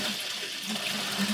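Water running steadily from the outlet of a newly installed Kohler digital thermostatic shower valve, a continuous soft rushing hiss throughout a brief moment with no talk.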